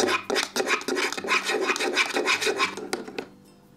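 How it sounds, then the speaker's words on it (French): A whisk or spoon stirs flour and baking powder in a bowl in a toy kitchen, with rapid, rhythmic scraping and rasping strokes that are close and steady before they fade out. "On mélange bien."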